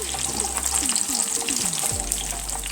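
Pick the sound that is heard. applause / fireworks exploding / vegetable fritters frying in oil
vegetable fritters frying in oil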